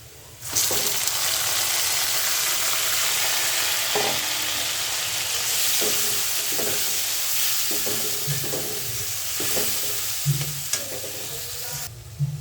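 Fish slid into hot oil in a home kitchen pan while cooking a banana-flower ghonto, setting off a loud, steady sizzle and spatter that runs continuously, with occasional stirring scrapes and clicks over it.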